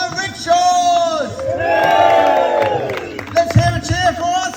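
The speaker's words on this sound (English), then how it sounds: "Let's hear a cheer for the rickshaws!" A group of rickshaw rally travellers in India lets out a loud, rising cheer with whoops and shouts that peaks and tapers off, followed by scattered excited voices nearby.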